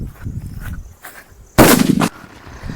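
A digital bomb firecracker bursts during Diwali in a single loud, sharp crackling blast lasting about half a second, preceded by faint background rustle and murmur.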